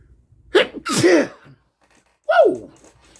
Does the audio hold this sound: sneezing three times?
yes